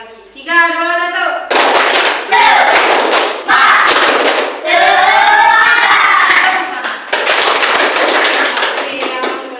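Classroom of junior high students doing a rhythmic group clap cheer, loud and close, with bursts of patterned clapping and shouted chanting voices between pauses.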